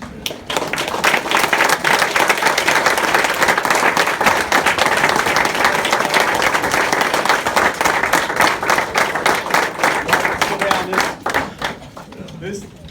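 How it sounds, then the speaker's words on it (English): Loud, sustained applause from a large standing crowd at a class ceremony, dense clapping that holds steady for several seconds before thinning out near the end. "stand up and give him a round of applause"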